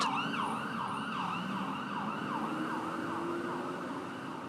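An emergency siren wails in repeated rising and falling sweeps, somewhat distant over a low traffic rumble.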